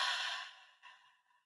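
A single slow, audible exhale during guided meditation, breathy and close, fading out gradually over about a second with a small second puff near the end.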